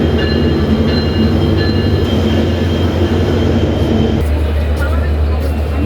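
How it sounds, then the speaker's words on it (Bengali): A train rolls into a busy railway station platform on the Dhaka to North Bengal line, producing a loud, continuous rumble of wagons and wheels. Voices murmur faintly underneath, and the train eases down near the end. "দূর দূরান্ত থেকে ট্রেন আসছে লোকজন নামছে"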